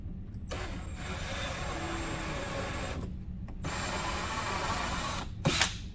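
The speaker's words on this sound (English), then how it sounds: "I'm just going to drill the hole a little oversized" A power drill bores a slightly oversized hole for a mud flap on a 2015-2020 Ford F-150, a steady close whine running in long bursts with brief pauses between.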